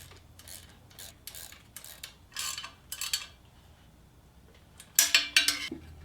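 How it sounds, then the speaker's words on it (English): A gear wrench ratchets on a header bolt while DNA Motoring headers are fitted to a Dodge 4.7 engine, giving short bursts of rapid metallic clicking up close, with a louder clinking flurry near the end. "get that gear wrench on there"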